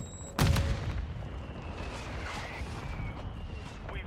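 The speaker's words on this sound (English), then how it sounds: "Mortar strike inbound." Mortar strikes in a multiplayer shooter video game: one loud, close explosion bursts near the start and rumbles off, leaving a steady low battlefield din for the rest.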